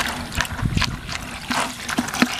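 Water poured from a hose or container onto dry chicken feed for fermenting, a continuous close trickling and splashing with uneven surges, no talk.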